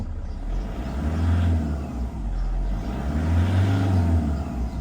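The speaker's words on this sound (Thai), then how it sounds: "อันนี้จะเป็น ข้อดีของรถสมัยเก่านะครับว่าเป็นทุกอย่างนะครับอัตราการเร่งมาด ูครับมาดู" A 2007 Toyota Vigo 2.5 pickup engine revs and accelerates in two rising surges, loud and close, with a steady low rumble between them and no talking.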